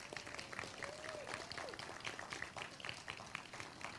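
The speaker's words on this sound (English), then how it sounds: "Let's give a big round of applause." A room audience applauds, with scattered, fairly faint clapping that continues steadily, along with light crowd murmur and a brief voice in the background.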